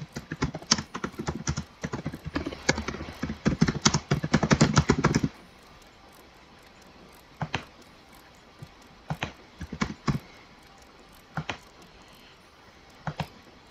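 Rapid clattering keystrokes on a computer keyboard during a Roblox Pet Simulator 99 session, a dense burst of typing for about five seconds followed by scattered single clicks and short bursts.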